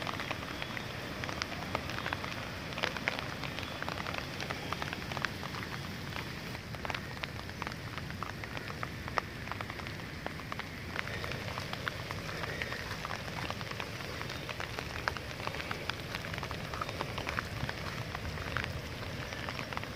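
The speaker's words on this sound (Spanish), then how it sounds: "Llueve aquí en la ciudad de Cali, pero especialmente en Siloé." Rain falling steadily over the city of Cali, Colombia, in the Siloé neighborhood, a dense continuous patter of drops hitting surfaces, even and unbroken throughout with no voices.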